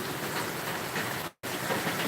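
Heavy rain pours steadily during a cyclone in Puducherry, a dense, continuous hiss of falling water close by, broken once by a brief cut to silence before resuming.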